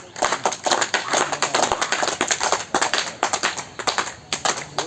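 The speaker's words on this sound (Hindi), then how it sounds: "चलिए जोर से बजाइए जरा ताली इनके लिए भी" A room full of people claps loudly for a yoga group, a dense run of sharp, rapid hand claps close by that carries on throughout, mixed with scattered louder slaps.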